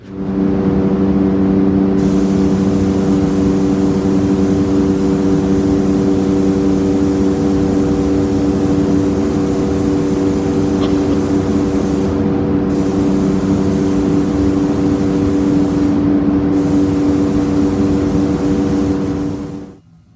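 Parts agitator cleaning nuts and bolts from a 1939 Packard V12 in an acid cleaning process, giving a loud, steady mechanical drone with a constant hum that runs unbroken for about twenty seconds, then cuts off.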